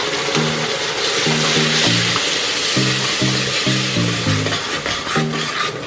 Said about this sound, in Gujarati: એને 2 મિનિટ તેલ છૂટું પડે ત્યાં સુધી સાંકળીશું